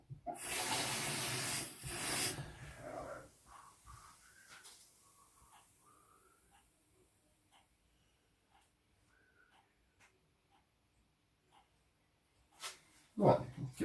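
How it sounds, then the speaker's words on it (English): Cold tap water pours into a pan for about two seconds, a loud broadband rush right at the start. A few quiet clinks and small kitchen sounds follow, and a brief clatter comes near the end. "we're going to put half a pint of cold water"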